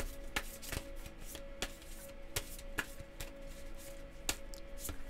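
Tarot cards are shuffled by hand with soft, rapid riffling and repeated light taps and slaps, faint and close, with a quiet background hum.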